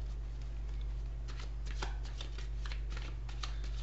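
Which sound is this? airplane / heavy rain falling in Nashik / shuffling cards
shuffling cards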